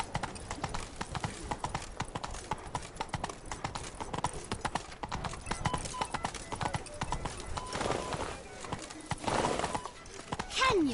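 Horse hooves clip-clop in The Witcher 3, a continuous fast trotting rhythm of close, dry hoof strikes running the whole length, with a faint whinny near the end.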